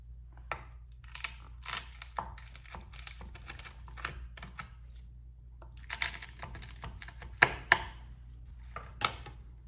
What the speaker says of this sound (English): I'm going to chop the cinnamon stick into a couple pieces so it fits in the bag a little bit better.